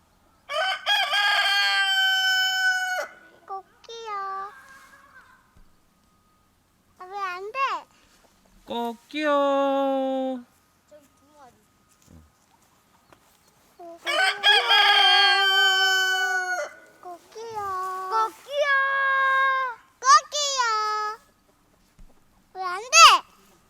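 A voice imitates clucking chickens and a crowing rooster in several bursts, with short pauses and brief talk between them.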